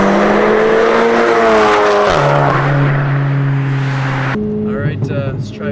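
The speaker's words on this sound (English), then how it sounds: "That turbo noise" Big-turbo VW Golf Mk7 GTI accelerating hard from inside the cabin, its engine note climbing through the gears, with drops at each quick shift and a whoosh of turbo, loud throughout.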